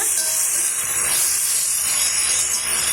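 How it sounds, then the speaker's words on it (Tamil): Tomatoes and onions sautéing in a pan for an okra tamarind curry give off a steady, close hiss of sizzling oil that runs evenly through the whole stretch, with no voices. "இந்த தக்காளி மசிஞ்சு வர வரைக்கும் நம்ம வதக்கி விட்டுக்கலாங்க"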